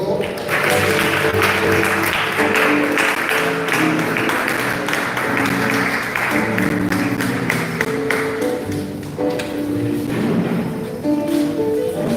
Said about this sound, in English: Let's clap for them as they go.